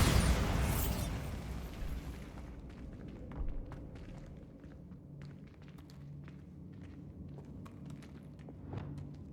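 A Bombarda spell from Hogwarts Legacy bursts as one loud, close explosive blast that decays quickly. Scattered softer thuds and taps follow over a quiet game background.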